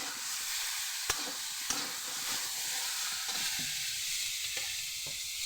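Ginger sautéing in a pan gives a steady soft sizzle throughout, with a few sharp spatula scrapes and taps against the pan.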